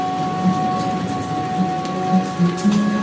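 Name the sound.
rain falling on grass and a roof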